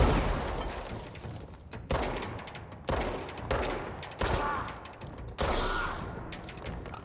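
Gunfire in the video game Control comes as about five heavy shots spaced a second or so apart, each blast decaying into a rumbling echo, fairly loud and close.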